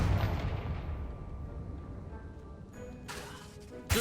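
A fire spell blast bursts in the Hogwarts Legacy video game: a sharp, boomy impact at the start that fades into a rumbling tail, then a second crackling hit near the end.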